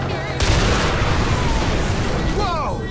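Gunfire in the video game Far Cry 4, a loud gunshot burst with booming tail over a busy game soundscape, with a voice speaking nearby.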